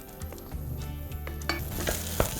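Sieved potato is stirred into melted butter in a pot over low heat, giving a soft steady sizzle with scraping strokes of the spoon, close and continuous.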